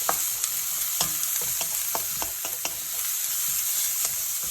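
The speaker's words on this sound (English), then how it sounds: "So the onions we're going to cook until they're nice and soft." Onions frying in oil in a pan, with a steady close sizzle and occasional clicks from stirring, continuous and alone without speech.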